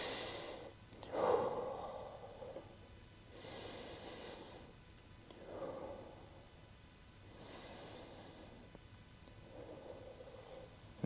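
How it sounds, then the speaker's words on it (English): Slow, deep breaths drawn in through the nose and let out through the mouth during a belly-breathing exercise in a golf workout for men over 50, several soft, steady inhale-exhale cycles repeating close by with no talking. "we're breathing in through the nose, out through the mouth"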